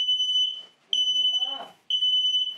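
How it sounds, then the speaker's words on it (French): An X-Sense smoke detector in test mode gives a loud, close, high-pitched electronic beep in long repeated pulses with short gaps, and someone speaks briefly during one gap. "Je vais appuyer sur le bouton test. D'un détecteur de fumée"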